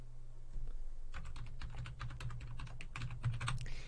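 Rapid typing on a computer keyboard during a Linux console setup, a dense run of light clicking keystrokes close up, with no talk over it.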